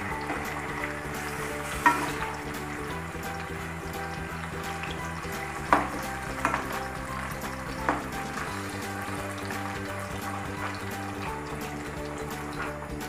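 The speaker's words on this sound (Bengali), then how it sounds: "এই পাশটাকেও ভেজে নিচ্ছি।" Paneer pakoras sizzling in hot oil after being turned over, a steady close frying crackle with a few brief clinks and taps of a utensil, and no talking.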